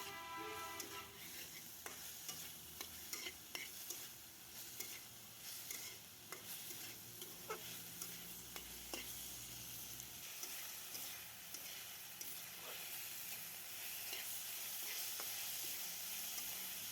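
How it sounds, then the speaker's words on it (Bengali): Soy-and-salt marinated burger meat fries in oil in a wok. A soft, steady sizzle runs throughout, broken by sharp clinks and scrapes of stirring. It stays fairly quiet and close, with no voices. "এখন আমি কড়াইয়ে কিছু তেল দিয়ে এগুলো ভালো করে সিদ্ধ করে নেব।"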